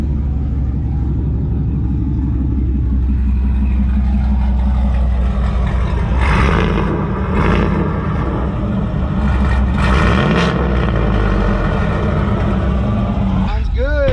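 A car with newly installed headers and exhaust rumbling loudly and revving up in swells, close by, with people talking over the engine throughout.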